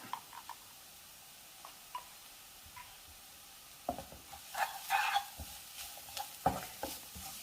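A spatula scrapes and stirs a carrot and bean stir-fry in a pan. Sparse light taps and scrapes come first, then a busier burst of stirring and faint sizzling, close and fairly quiet.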